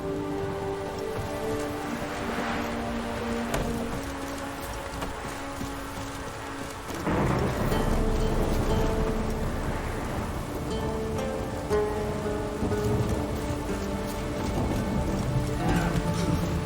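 Steady rain pours during a thunderstorm in The Witcher 3 open world, a constant wash that grows heavier after a few seconds, with faint hoof-like clopping and a low rumble underneath.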